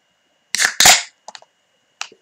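Can of Session IPA beer cracking open close up, a sharp crack followed by a louder fizzing pop, then a few small clicks and one last short hiss, with no voices.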